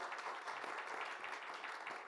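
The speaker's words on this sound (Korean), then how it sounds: "우리 실무진들과 통역사님들께 다시 한번 박수 보내주실까요?" Audience applause at an international security academic conference, a steady patter of many hands clapping at a distance, fairly faint and even throughout.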